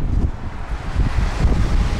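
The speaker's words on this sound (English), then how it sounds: "It's very windy up here, isn't it?" Strong wind gusts across a hilltop viewpoint in Karachi, buffeting the microphone with loud, low rumbling bursts that rise and fall unevenly in quick succession.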